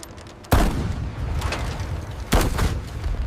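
Heavy gunfire during a 1941 Pearl Harbor battle scene, two booming reports with reverberant rumble in between, loud and near.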